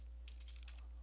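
Quick bursts of keystrokes on a computer keyboard, entering a command in a Windows 10 repair prompt, faint and close with no talking, a short run of clicks over a steady low hum.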